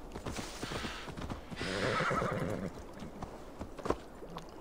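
A horse whinnies loudly in the middle while hooves clip-clop steadily around it, with a brief sharp knock near the end, in the video game Assassin's Creed Valhalla.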